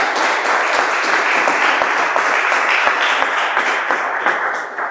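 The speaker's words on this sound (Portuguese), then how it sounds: "dê uma salva de palmas ao Senhor" A church congregation applauds during a family service, with dense, steady clapping from many hands filling the room for several seconds before easing slightly at the end.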